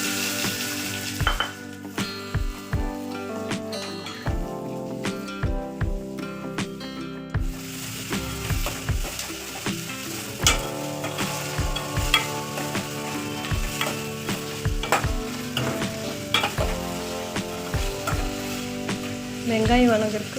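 Mustard seeds, cumin, green and dried red chillies and shallots fry in hot oil for a drumstick-leaf poriyal, a steady sizzle broken by sharp popping crackles and occasional stirring clinks throughout.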